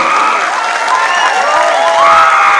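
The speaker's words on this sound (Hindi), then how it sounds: "एक बार दोनों हाथ ऊपर करके जोरदार तालियां हो जाए" Audience applause at a corporate speech event for the CEO and MD of Asclepius Wellness: a dense, steady wash of many hands clapping, loud and sustained throughout with no break.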